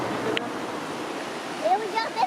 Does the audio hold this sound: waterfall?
yes